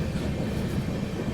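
A tourist train bound for Shirdi rumbles steadily from inside the carriage, a dense, even roar of wheels and rails with no voices.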